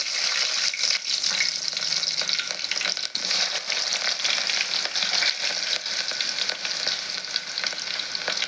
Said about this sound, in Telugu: ఆయిల్ అయితే హీట్ అయింది కదా నేను ఉల్లిగడ్డ ముక్కలు వేస్తున్నాను